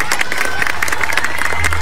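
Brief burst of audience clapping and cheering for a newly married couple at a televised wedding, mixed with crowd noise and voices.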